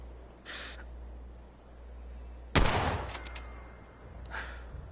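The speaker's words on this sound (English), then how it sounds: "Let me get my sniper rifle." A single sniper rifle shot in Fallout 4 cracks out loud and close midway, with a sharp ringing tail, after fainter breathy game sounds over a low steady hum.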